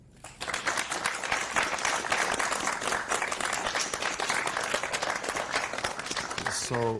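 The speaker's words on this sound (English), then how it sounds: "can the group that's assembled just quick give a round of applause for our panelists?" Sustained audience applause for conference panelists, dense and steady from start to finish after a brief quiet opening, with a few voices and cheers mixed into the clapping.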